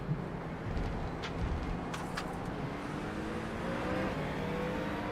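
A steady engine drone with rising pitch sweeps as a GT race car accelerates in the iRacing video game, a continuous mid-level roar with no talking.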